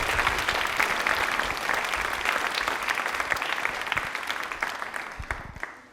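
Enthusiastic applause from an audience at a quiz event, dense and sustained for several seconds before gradually tapering off.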